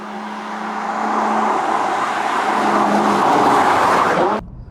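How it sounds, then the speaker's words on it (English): A Nissan GT-R R35 is driven along a slow 40 mph road, its steady engine and road noise building a little and holding even before cutting off abruptly near the end. "So this is my first experience driving a Nissan GT-R"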